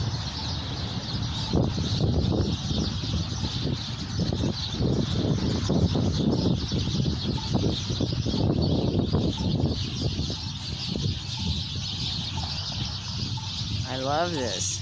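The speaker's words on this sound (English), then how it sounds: "there's a ton of birds up in these trees" A large flock of birds calls from the trees at a gas station at sundown, a dense, continuous chatter of overlapping chirps and clucks that stays steady throughout, with traffic rumble underneath.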